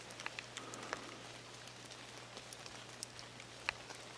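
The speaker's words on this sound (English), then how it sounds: "yet this tiny little stream is still running." A tiny stream runs steadily beside a contaminated-soil landfill near Shawnigan Lake, giving a faint, continuous trickle with small scattered drips and splashes, heard alone.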